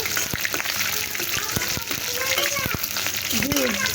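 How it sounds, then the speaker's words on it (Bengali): Dried red chilies frying in hot oil in a wok, a loud crackling sizzle with sharp pops and spatula clicks, up close, and a voice audible briefly. "তো প্রথমে শুকনো মরিচগুলো ভেজে নেব।"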